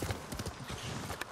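Horse hooves clip-clop in the video game Ghost of Tsushima: a short run of quick, fairly loud, close hoof strikes in an uneven walking rhythm, with no speech over it.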